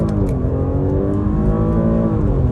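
A 2020 Audi S6 engine roars hard and steady from up close, revving under full launch-control acceleration with a strong rising drone and no voices.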